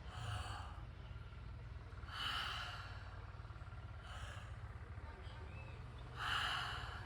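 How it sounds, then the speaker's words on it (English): Slow open-mouthed inhales taken with the jaw dropped during a breathing exercise, soft airy breaths recurring about every two seconds over a low steady hum, quiet and close. "and then we'll take an inhale."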